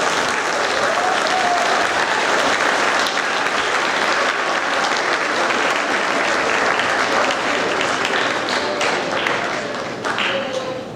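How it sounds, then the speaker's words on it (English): Sustained applause fills an audience at a school's seventh-grade awards ceremony, steady and loud throughout before tapering slightly at the end. "let's give all the recipients a round of applause."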